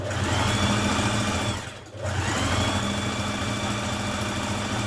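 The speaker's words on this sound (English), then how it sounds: "I'm stitching just maybe a millimetre just inside my first line of stitching with that stronger stretch stitch" A domestic sewing machine runs a stronger stretch stitch on leggings fabric, just inside an earlier seam line, with a steady, close motor hum and rapid needle rhythm that briefly pauses before resuming.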